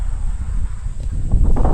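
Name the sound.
strong wind around a parked car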